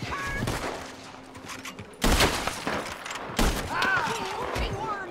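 Two sharp gunshot blasts, a couple of seconds apart, while hunting in Red Dead Redemption 2, over game background noise, with a voice speaking in between.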